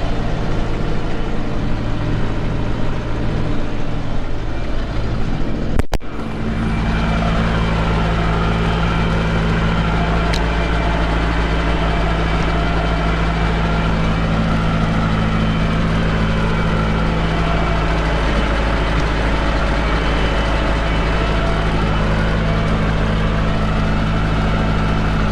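A tractor engine drones steadily at close range in a field with a deep, constant low rumble, broken once by a brief sharp knock early on.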